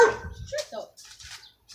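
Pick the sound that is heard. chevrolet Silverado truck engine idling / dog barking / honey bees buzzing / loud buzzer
dog barking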